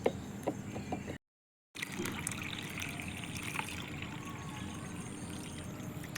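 Water is poured slowly along the inside wall of a tub of soil prepared for planting a lotus tuber, making a faint, steady trickle close by, cut by a brief moment of silence.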